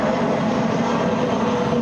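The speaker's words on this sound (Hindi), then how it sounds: "प्लेन जाता" Airplane engine roar overhead, a steady broad rumble holding at loud level throughout without a clear rise or fade, heard alone with no talking.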